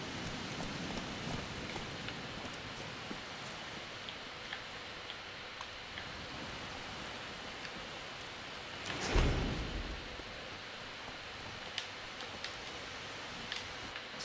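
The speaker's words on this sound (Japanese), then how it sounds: "ここのエリアはずっと雨降ってるね" Steady rain falls in the video game The Witcher 3, a constant wash of hiss with scattered ticking drops and a brief louder rumble partway through.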